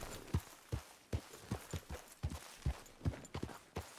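A horse's hooves clip-clop at a steady walking pace in the Western game Red Dead Redemption 2, a mare plodding along with soft, moderately close hoofbeats over a quiet background.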